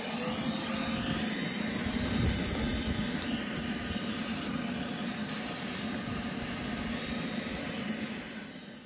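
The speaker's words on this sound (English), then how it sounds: "I'm just going to vacuum it up while the bit's still in there." A vacuum cleans out a hole drilled in curing concrete, with the drill bit still in it: a steady, loud roar with a hissing rush runs continuously close by, then tapers slightly at the end.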